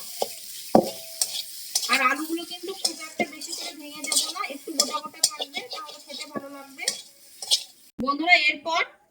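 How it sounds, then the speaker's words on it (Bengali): Mashed potato filling mixed with salt, turmeric and roasted cumin and coriander powders is stirred in a pan, with repeated scraping and clinking strokes at close range over a light sizzle. "এই আলুর কুড়ের মধ্যে দিয়ে দেব লবণ হলুদ গুঁড়ো ভাজা জিরে গুঁড়ো ভাজা ধনে গুঁড়ো সবকিছু দিয়ে ভালো করে আমি মিশিয়ে নেবো"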